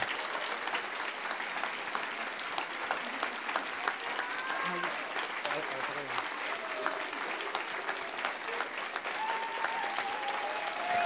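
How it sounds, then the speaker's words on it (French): An audience at the 2023 Occitanie-Est regional final of the Ma Thèse en 180 Secondes science contest claps continuously for the candidates, a dense even applause with faint cheers and voices underneath. "On applaudit les candidats de ma thèse en 180 secondes."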